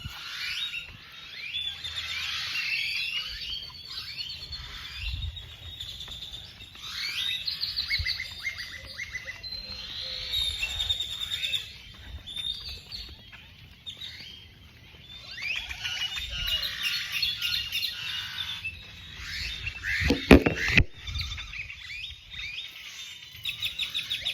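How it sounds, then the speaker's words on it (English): Many birds chirp and tweet continuously at night in a dense, faint chorus, with a brief rustle or thump near the end; no voices. "I thought birds were quiet at night. Listen to them."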